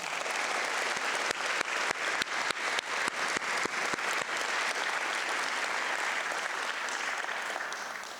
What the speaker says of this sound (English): give the staff who have supported you along this journey a round of applause